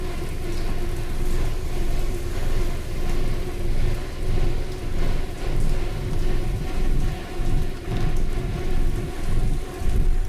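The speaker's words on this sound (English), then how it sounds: "It's raining blood." Steady heavy rain with rolling thunder from the horror video game The Park, a dense, continuous downpour with low rumbles swelling and fading throughout, loud and with no voices.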